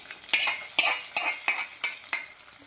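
Hot fried tempering is stirred into pachadi, a Kerala Onam side dish, giving six regular scraping strokes of a spoon against the pan over a faint sizzle, close and without voices.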